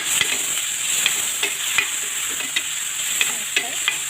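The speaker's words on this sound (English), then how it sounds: "You stir for a while." Onions and tomatoes frying in a pot hiss steadily while a spoon stirs them, leaving regular light scraping knocks every half second or so over the constant sizzle, close and with no talking.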